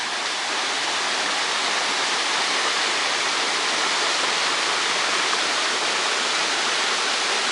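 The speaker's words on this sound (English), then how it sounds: "We've got this really cool waterfall here." A waterfall beside a hiking trail near a reservoir roars with a steady, dense rush of falling water, loud and close, unchanging throughout with no voices.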